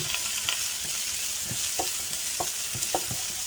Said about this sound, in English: The first step is you have to saute this ingredient.